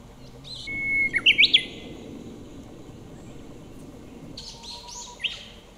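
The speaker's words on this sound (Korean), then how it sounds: "학자들은 연구를 통해 지역에 따라 휘파람새의 소리가 다름을 밝혀냈다" Song of a bush warbler, a short whistled phrase followed by rapid bright notes, with a fainter second phrase later, over steady low background noise outdoors.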